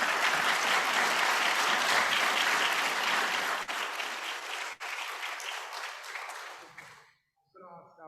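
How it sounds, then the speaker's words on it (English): An audience at a youth innovation forum applauds, dense clapping holding steady for several seconds before thinning and dying away into near silence, with a voice briefly heard at the very end. "I'll give him a youthful round of applause, but I think you guys did that already"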